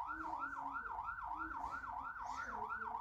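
A yellow toy police car with two roof lights sounds a continuous electronic wailing siren, rising and falling in a steady, rapid cycle, close and fairly loud with no talk over it.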